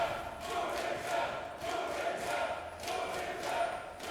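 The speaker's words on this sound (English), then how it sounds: "OG fighting back with fan cheers of their own" Esports arena crowd at a League of Legends EU LCS match between Unicorns of Love and Origen, a sustained roar of cheering and chanting that swells and dips in waves, loud and continuous.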